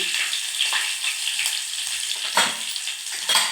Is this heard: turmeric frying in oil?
yes